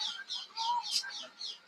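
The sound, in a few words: birds calling outdoors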